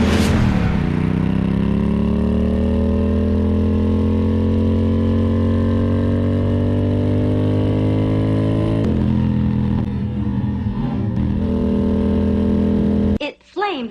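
A Ducati Monster motorcycle engine runs loud and steady near the mic, with a deep rumble and a slight rise in pitch, then drops off as it is blipped. Short crackles follow near the end.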